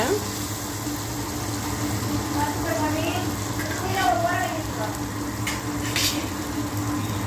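Onion and spices including garam masala fry steadily in a pan for an ivy gourd stir-fry, giving a continuous sizzle with occasional stirring scrapes and no talking.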